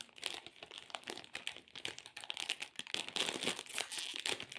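Crinkly plastic wrapper of a Mini Magnum Mix ice cream pack being torn open close up, a quiet run of crackling and rustling bursts.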